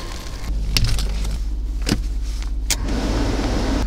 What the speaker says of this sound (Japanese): はいじゃあエンジンつけて 温めておきます